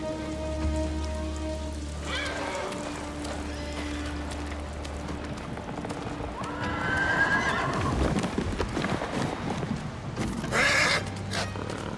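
A horse in the samurai video game Ghost of Tsushima whinnies loudly and its hooves clip-clop over a soft rain backdrop, with a second neigh near the end and a low musical drone beneath.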